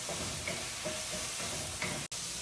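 Grated tofu sizzles and hisses steadily in hot oil in a pot, a dense, even crackle close by with no voices.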